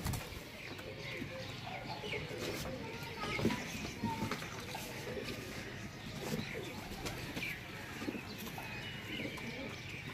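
Pigeons coo repeatedly among a flock of large paired breeding birds offered for sale, with someone talking steadily over the soft, close, overlapping calls.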